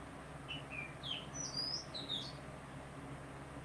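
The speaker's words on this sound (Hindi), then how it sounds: "ये पूरा चिड़िया जितना भी है, ये पक्षी सब, ये चिड़िया, ये अभी विंडो पर सब बैठ करके" Small birds perched at a window chirp in several short, high tweets scattered through the clip, soft and somewhat distant over a steady low indoor hum.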